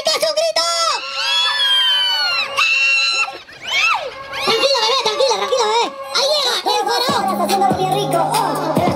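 Girls in a crowd scream loudly and continuously at an event, shrill overlapping shrieks and whoops rising and falling for several seconds, with some shouting mixed in.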